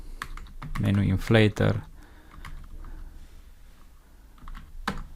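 Rapid keystrokes on a computer keyboard while writing Android app code, a quick run of clicks mixed with a man's speech at the start and a short burst of taps near the end.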